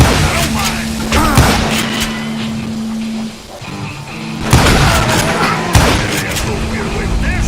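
Gunshots in the Western shooter Call of Juarez Gunslinger, several sharp loud reports with booming tails, two strong blasts standing out in the latter half over a steady droning background.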